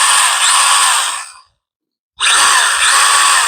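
A small handheld battery-powered cutting tool buzzes loudly at close range in two bursts, stopping for under a second between them.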